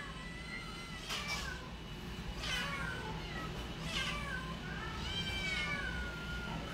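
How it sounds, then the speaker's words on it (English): A pet cat at an adoption center meows four times in drawn-out, evenly spaced calls, moderately close, over a steady background hum and shelter noise. "Such a pretty cat."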